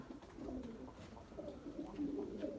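White pigeons coo softly in a loose, continuous murmur, with faint fluttering from birds in flight. The sound stays low and fairly distant throughout, with no clear voices.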